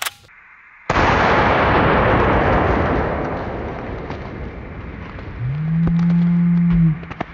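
Rifle shot fired outdoors, a sudden loud blast with a long rumbling decay, followed by a sustained tonal hum or whine late in the clip.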